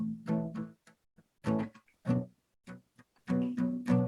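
An out-of-tune guitar strums chords in short, quiet bursts separated by pauses, each strum ringing briefly before fading.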